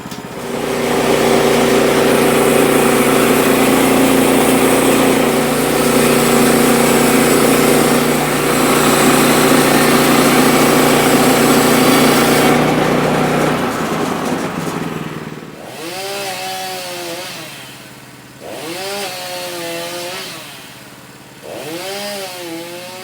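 A Woodland Mills HM122 sawmill milling lumber, its engine roaring loud and steady for about fourteen seconds before the blade leaves the cut and it winds down to a rougher idle that rises and dips in a few revs.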